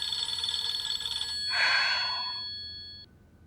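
An electronic telephone ringtone trilling in a TV drama scene, a steady tonal ring that swells briefly then cuts off, fairly soft with no talking over it.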